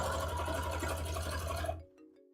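A sewing machine runs steadily for under two seconds, stitching fabric with bobbin and top thread, a fast even whir close by, then stops abruptly into near silence.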